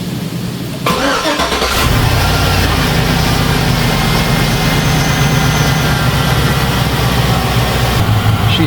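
A GMC Yukon engine cranks and catches just after the start, then settles into a loud, steady idle that runs unbroken to the end, following a new intake install.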